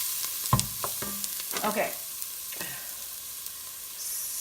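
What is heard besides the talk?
vegetables sautéing and being stirred in a pot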